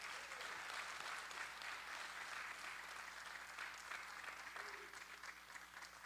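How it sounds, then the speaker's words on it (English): Sustained audience applause at a community unity gathering in Newark, steady dense clapping throughout with a slight fade near the end, no talking over it. "Y'all give our presenters a round of applause."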